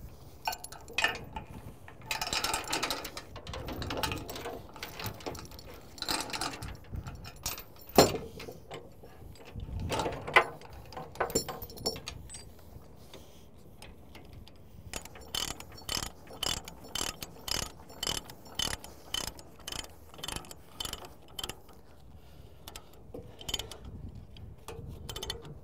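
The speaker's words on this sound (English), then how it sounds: "So as I just barely get it tight, I'm just making sure, again, these are all on there all the way." A ratchet chain binder is cranked to tighten a chain while securing a skid steer for transport, giving bursts of loud, close metallic clicking with brief pauses and clanks of chain between strokes.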